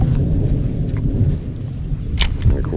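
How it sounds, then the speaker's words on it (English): Deep rumble of thunder rolling during a rainy fishing outing, a loud low continuous growl that swells and fades, with faint rain patter above it. "And the thunder rolls."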